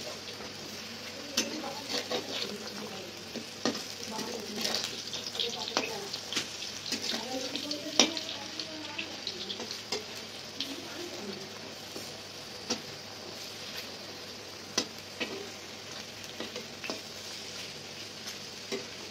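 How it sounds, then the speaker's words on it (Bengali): Brahmi leaf pakoras fry in a pan, a continuous soft sizzle broken by frequent clicks and scrapes of a spatula turning them, with faint voices in the background. "এবারে এক পাশে ভালো করে ভেজে নেব"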